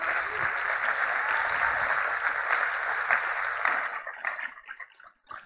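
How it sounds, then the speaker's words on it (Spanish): A theatre audience at Teatro Vallarta applauding women on stage, steady dense clapping from many hands that holds for several seconds and then thins out to scattered claps. "Por favor, denle un fuerte aplauso."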